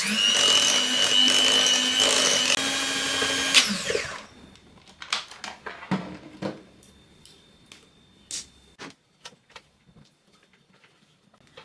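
A hand mixer beats Zimtsterne cookie mixture with citrus zest, cinnamon and salt, running loud and steady for about four seconds, then stopping; scattered clinks and scraping noises follow.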